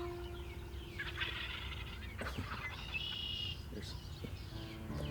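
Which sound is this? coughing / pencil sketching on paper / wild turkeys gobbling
wild turkeys gobbling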